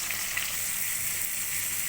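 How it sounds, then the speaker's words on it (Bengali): Steady oil sizzle with a soft, continuous crackle as turmeric powder fries, close by and alone, no voices. "হলুদের গুঁড়োটা এর মধ্যে দিয়ে ভাজবো"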